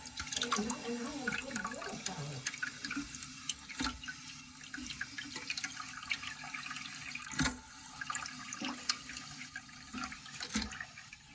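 An American Standard Champion toilet tank refills with water, a steady close rushing and trickling hiss with small splashes and drips running throughout, no voices.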